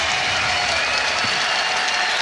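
A grateful home crowd at a women's college basketball game between TCU and UC San Diego applauds a player's curtain call, loud sustained clapping filling the arena evenly throughout.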